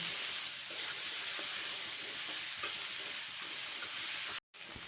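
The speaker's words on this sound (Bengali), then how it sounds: "ভালোভাবে নাড়াচাড়া করে আলুগুলো আমি ভেজে নেব" Potatoes fry in a pan with salt and chili powder, giving a loud, continuous, close sizzle and hiss with occasional stirring scrapes, uninterrupted apart from a brief dropout near the end.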